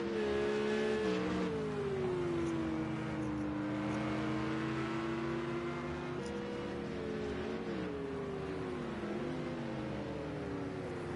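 Race cars in a GT3 Challenge round of Project Cars 2 on PlayStation, including a blue Porsche, their engines howling up and down through gear shifts, with several cars' tones layered close together and no voices.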